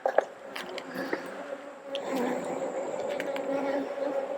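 Agitated honeybees humming around an open hive in August, a steady close buzz that swells in the second half, with a few sharp clicks and knocks from handling the hive boxes.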